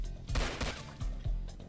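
Roblox gunfire, a few quick bursts of shots with thumping low ends, fairly faint and close together over under two seconds, with no voices.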